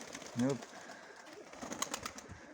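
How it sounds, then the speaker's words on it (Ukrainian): Pigeons coo inside a loft in Kherson where homing and decorative birds are kept, one clear throaty coo near the start followed by faint fluttering and scattered chirps in a quiet room. "Тут он голубиний рай ми попали."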